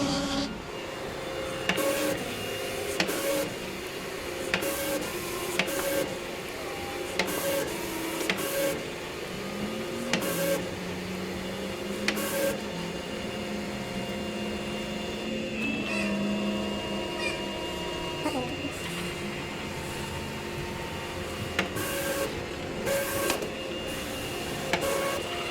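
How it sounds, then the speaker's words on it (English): A plotter cutter slices vinyl wrap pieces for a van, its motor whirring and buzzing in shifting tones as the head moves, punctuated by repeated sharp clicks and short carriage stops throughout. "it'll start cutting out each and every one of those pieces that are going to get put on the van"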